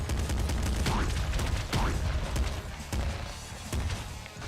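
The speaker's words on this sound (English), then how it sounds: "Machine Gun." Rapid machine gun fire in a Nintendo Switch game, dense rattling bursts with heavy low thumps that sound close and loud and stay steady across the whole stretch.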